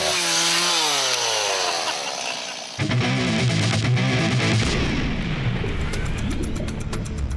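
A chainsaw revs with a rising, wavering whine, then bites in loudly with harsh grinding, cutting through material for several seconds.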